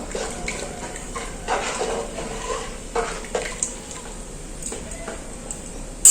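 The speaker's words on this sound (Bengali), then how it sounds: "এবার হাতায় করে একটু নেড়ে দেবো" A ladle stirs khichdi in a pot with cauliflower, beans and fried mung dal, giving soft irregular scrapes and wet knocks against the pot, fairly quiet.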